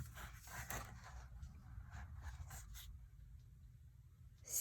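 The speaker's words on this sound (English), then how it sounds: "Okay, so I'm gonna cut this" Blade or trimmer slicing through cardstock for a mini album book cover, a steady soft scraping cut lasting several seconds, close and quiet with no talk.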